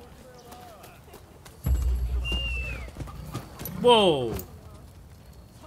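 Horse galloping in the open world of the video game Rise of the Ronin, a soft rhythmic hoof beat running under game music and a brief exclamation from a player.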